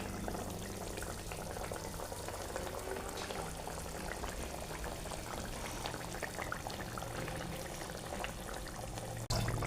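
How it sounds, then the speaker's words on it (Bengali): Katla fish curry with coriander bubbling in a pot, a steady soft boiling and simmering burble throughout, fairly quiet and close, with a brief clatter at the very end and no talking. "মাছগুলো ফুটে উঠেছে"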